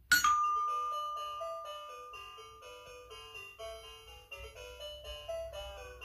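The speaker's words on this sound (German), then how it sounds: "danach gehen wir an die Klingel und klingeln" A Heidemann wireless doorbell plays a bright electronic chime melody, opening with a sharp button click and then a clear sequence of ringing tones, close and alone without talk.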